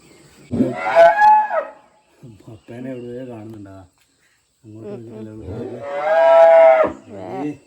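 A cow moos during milking with long, drawn-out calls, loud at the start and again near the end, with lower, quieter lowing in between.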